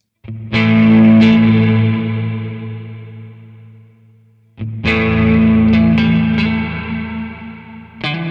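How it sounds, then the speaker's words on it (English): Electric guitar with spring reverb from a LEKATO Tank-G effects pedal: two clean-to-slightly-driven strummed chords ring out and decay slowly in a splashy tail, followed by a few more picked chords. "If I turn it down to a spring reverb"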